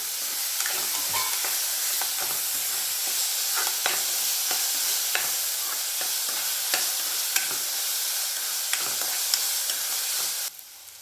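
Mixed vegetables sautéing with salt until golden brown in a pan: a steady close sizzle with scattered crackles and scraping stirs throughout, cutting off abruptly near the end.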